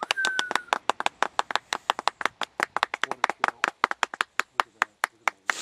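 Hands clap outdoors at a duck hunt, near thousands of mallards landed among decoys, in a quick, steady run of sharp claps, fairly close, with a faint whistle-like tone early on and no talking.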